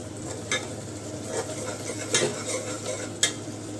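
Spoon stirring prawns through cooked masala in a frying pan, with several soft scraping strokes and light clinks against the pan over a low sizzle.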